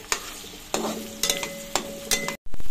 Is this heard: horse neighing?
no